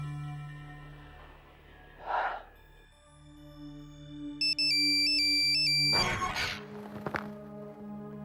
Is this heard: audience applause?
no